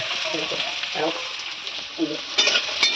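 Onion fritters fry in a pan of hot oil, a continuous bright sizzle with a few soft stirring and clinking touches and faint background sounds around it.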